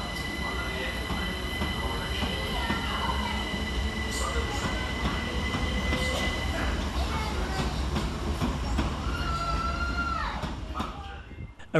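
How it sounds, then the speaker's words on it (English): Two Southern Railway Class 377 units, 377-427 and 377-114, arrive at Eastbourne from London Victoria, with a loud close rumble, rattling wheels and brake squeals rising near the end. "Arriving to terminate with a Southern Railway service off London Victoria is 377-427 and 377-114"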